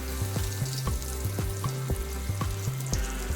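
Spice-coated eggplant slices placed one by one into hot oil for shallow frying, a steady close sizzle with rhythmic thumps and hiss as each piece goes in.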